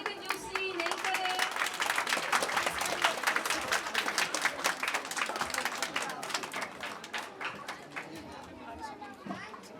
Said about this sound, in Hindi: तालियों में कंजूसी नहीं करें।